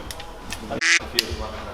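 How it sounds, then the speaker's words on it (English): A single loud, short duck-like quack bursts out in a workshop during a Barnett clutch kit install on a Yamaha YXZ 1000R, with faint voices and low background noise around it. "Whoa, that's a duck."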